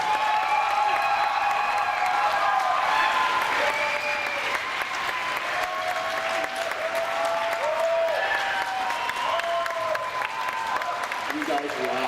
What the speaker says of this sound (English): Let's give one more huge round of applause for these lovely people